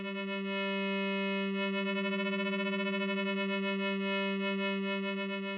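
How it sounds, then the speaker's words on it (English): A sustained tone from a Novation Circuit synthesizer with rich harmonics drones steadily, its timbre wobbling and shifting as a parameter is swept by a MIDI CC knob, heard alone without voices. "if I play the sound and I adjust this knob"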